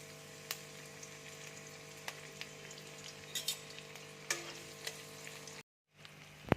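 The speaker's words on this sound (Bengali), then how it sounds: "তেল দেখো গরম হয়ে গেছে, এবার আমি পেঁয়াজ কুচি দিয়ে দিচ্ছি।" Chopped onions sizzle and crackle steadily in hot oil in a pan while cooking vegetable chow mein, with occasional sharp pops and stirring clicks, close and continuous, then a brief silence near the end.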